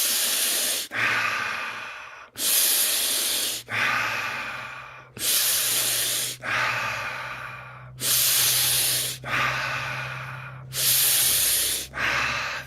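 Deep diaphragmatic breathing during a guided breathwork exercise: loud, close, rhythmic cycles of forceful airy inhales and exhales, about ten breaths in a steady repeating pattern, with no talking.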